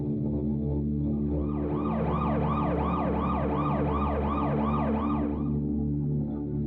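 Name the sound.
police car and ambulance sirens, radio drama effect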